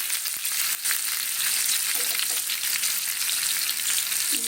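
Potatoes frying in hot oil in a pan for a vegetarian potato curry, a continuous bright sizzle with faint stirring clatter, steady and close, with no talking.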